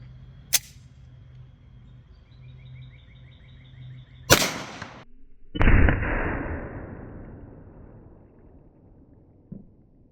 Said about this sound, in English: let's go ahead and see what 45 ACP does against this ballistic gel